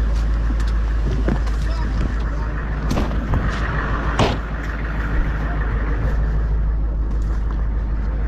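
A car engine heard from inside the cabin, a steady low rumble running the whole time, with voices talking over it and a few short knocks and bumps.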